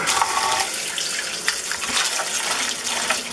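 Water runs from a tap over pumpkin seeds and pulp in a sink, a loud continuous splashing rush close by, without voices.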